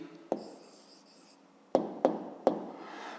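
A pen or pencil writes out a math answer by hand on paper: a soft scratchy stroke, then a pause, then three sharp taps and scrapes close by in a quiet room.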